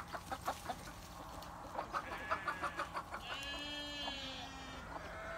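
Red Star mother hen clucking in a quick repeated rhythm while her chicks peep in high thin calls, close by and moderately quiet.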